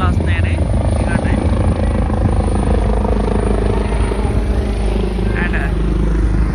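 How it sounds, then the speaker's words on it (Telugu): A helicopter flies overhead near an airport by a beach, its loud, steady rotor drone filling the whole stretch close by with no breaks. "హెలికాప్టర్స్ చాలా వస్తున్నాయని"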